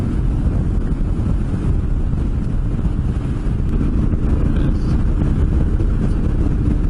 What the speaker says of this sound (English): There's that wind.